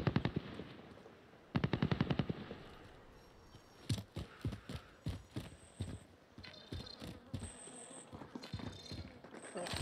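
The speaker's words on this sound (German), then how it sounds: "Da wird überall geschossen." Call of Duty: Warzone gunfire: rapid automatic bursts and sharp single shots crackle throughout, loud and dense, with a couple of long rattling volleys and scattered later shots under faint game noise.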